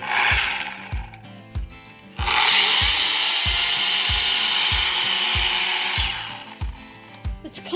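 A Makita electric chainsaw whines up to a loud, sustained cutting roar for roughly four seconds, then winds down. Sharp knocks and thumps sound nearby before and after the cut, and there is no talking.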